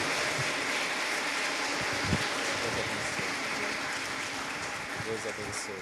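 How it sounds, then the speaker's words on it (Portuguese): A crowd claps steadily throughout, a dense, sustained round of applause with voices mixed in. "Vamos aplaudir, gente."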